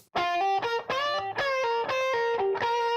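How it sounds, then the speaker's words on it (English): A distorted electric guitar plays a melodic hook, sustained gritty notes moving up and down in a steady phrase, loud and alone. "here's our guitar hook"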